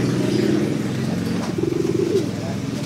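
A female pelontang pigeon coos in low, rolling, repeated calls close by, while someone talks over it.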